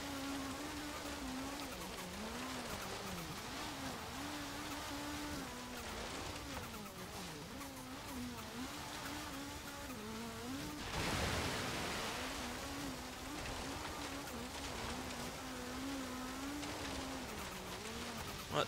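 A 1978 Hoonigan Ford Escort RS1800 in Forza Horizon 3 drives off-road through water, its low engine drone steady under a continuous wash of splashing spray, with a louder surge of water partway through.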